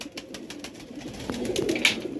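Home-bred pigeons on a rooftop loft cooing in low, repeated murmurs, moderately close, with faint ambient noise and no talk.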